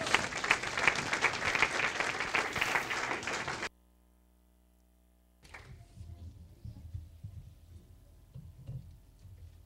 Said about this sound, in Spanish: Vamos a darles un aplauso a los muchachos